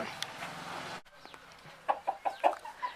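A hen and rooster in a low-cost chicken cage let out a short series of close, rhythmic clucks after a muffled, noisy opening.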